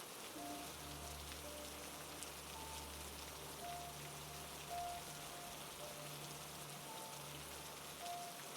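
Steady rain falls at night as a dense, even hiss of drops on surfaces with a low rumble underneath, continuous throughout and free of voices.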